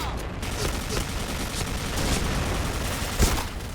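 Gunfire in the Point Blank online shooter sounds as a dense, continuous rattle of rapid shots, loud and close, with sharper reports standing out.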